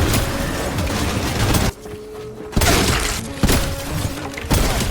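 Rapid automatic gunfire in the Fortnite video game, triggered by a TriggerBot cheat, comes as loud, dense bursts separated by short silent pauses, with sharp crackling and impact sounds layered over the shots.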